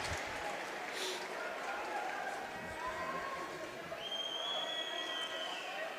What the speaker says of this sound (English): Big cheers from the Swiss crowd.